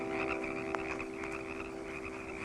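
Toads or frogs croaking at a pond in the mating season, a steady layered chorus of sustained calls with one sharper croak standing out near the start, moderately loud and without talk.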